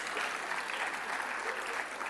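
Steady applause from a crowd of students at a BBA convocation ceremony, continuous and even throughout with no break.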